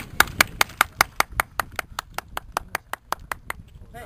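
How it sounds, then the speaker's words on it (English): One person claps in a quick, even rhythm of about twenty sharp claps that fade a little toward the end, with nothing else heard. "Gotta get the applause."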